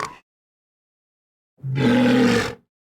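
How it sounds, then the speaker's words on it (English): A dinosaur bellow built by blending seal and walrus cries: one loud, sustained, roaring call of about a second, preceded by a brief short sound and silence. "The bellow he lets out when he sees the big dinosaur was formed by combining the cries of a seal and a"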